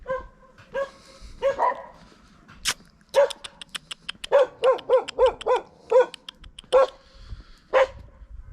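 Dogs barking territorially, a series of sharp, fairly close barks and yips in irregular bursts, some quick runs of barks, with quiet pauses between and no talking.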